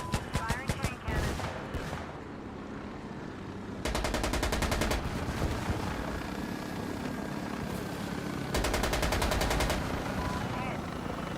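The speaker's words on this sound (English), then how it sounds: "Firing chain cannon." Bursts of rapid chain cannon fire ring out in the video game Insurgency: Sandstorm, two long loud volleys over a constant helicopter drone, while players talk over radio.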